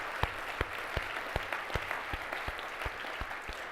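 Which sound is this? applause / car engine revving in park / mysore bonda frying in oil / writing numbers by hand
applause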